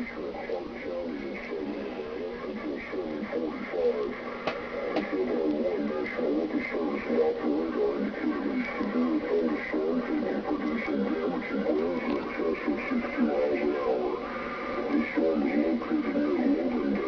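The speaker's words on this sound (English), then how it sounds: "an emergency alert comes across the screen giving a warning about severe weather" A severe-weather emergency alert on television, with a continuous broadcast voice speaking over a steady electronic tone and background hum, heard faintly throughout.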